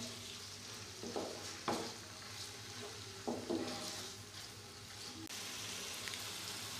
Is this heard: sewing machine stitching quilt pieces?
no